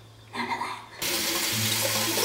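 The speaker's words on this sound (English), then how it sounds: "give it a good wash out. Make sure you obviously rinse this" A Windex spray bottle being rinsed out under a running tap: a brief trickle first, then the full stream of faucet water gushing steadily and loudly into a sink.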